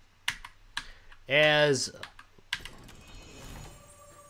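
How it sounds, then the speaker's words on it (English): Typing on a Redragon Fizz K617 60% magnetic switch gaming keyboard: scattered sharp key clicks and clacks, close by, with a brief burst of voice in the middle and a soft hum behind. "I think it's slightly quieter than my other keyboard"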